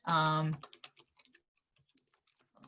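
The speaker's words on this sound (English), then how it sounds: "I'm just going to type and it's anything you want." Keys on a computer keyboard are typed in quick, light, irregular clicks, close and quiet, following a brief spoken phrase at the start.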